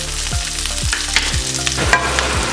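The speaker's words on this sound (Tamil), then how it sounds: "நம்ம வச்சிருக்கிற 1 கப் ஆனியனையும் அதில் போட்டுடணும்." Onions sizzle and fry steadily in melted butter with ginger and garlic, a loud continuous crackle broken by a few rhythmic scrapes of stirring, with no talking.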